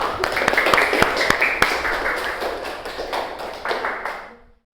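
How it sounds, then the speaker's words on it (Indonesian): Children in a primary-school religion class clap their hands together in a short burst, sharp distinct claps in a rough rhythm that thin out and fade to silence. "Oke, tepuk tangan untuk kita semua."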